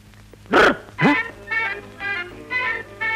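A dog barks close and loud, two sharp barks followed by a run of shorter, higher yelping barks in an uneven rhythm, alone with no talking.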